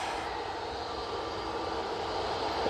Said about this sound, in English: Using the A320 Neo for this flight.